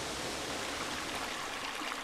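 A river pours over falls beside a wilderness portage trail, giving a steady, full-bodied rush of water, close and constant from start to finish.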